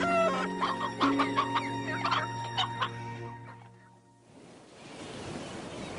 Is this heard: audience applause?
no